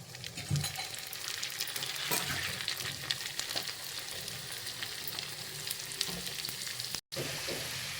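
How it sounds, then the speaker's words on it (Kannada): Karjikai dumplings fry in hot oil with a steady, dense sizzle and crackle, punctuated by a few soft clinks and one brief dropout near the end. "ಇದನ್ನು ನಾವೀಗ ಎಣ್ಣೆಯಲ್ಲಿ ಬಿಡೋಣ ಈ ಎಣ್ಣೆ ಕಾದಿದೆ ಈಗ ಒಂದೊಂದೇ ನಾವು ಎಣ್ಣೆಯಲ್ಲಿ ಬಿಟ್ಕೊತ ಹೋಗೋಣ"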